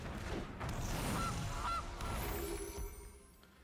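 A goose card in Magic: The Gathering Arena honks, with a few nasal honks in quick succession over a faint game backdrop, near and clear with no talk.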